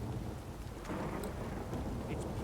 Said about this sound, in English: भाई देख लो बारिश, इतनी बारिश, इतना तूफान चल रहा है